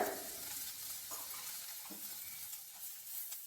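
Chopped tomatoes frying with curry leaves in a pan for tomato gojju, giving a steady soft sizzle with faint stirring scrapes, close and alone.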